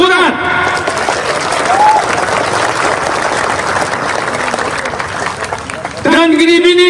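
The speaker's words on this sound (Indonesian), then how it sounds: "Tepuk tangan." An audience at a political rally for presidential candidate Prabowo claps in a loud, dense burst of applause, with a voice over a loudspeaker breaking in at the start and again at the end.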